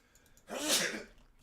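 One sharp, close sneeze bursts out in the middle of a quiet room and fades quickly.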